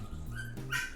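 A brief, faint burst of small Parson Russell terrier puppy yips and whimpers, somewhat distant, lasting about a second.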